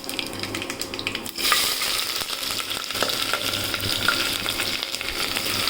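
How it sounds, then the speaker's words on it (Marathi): Onion drops into hot oil with mustard seeds in a pressure cooker and a loud sizzle jumps up, followed by steady close frying with stirring scrapes. "छान आता कांदा टाकूया"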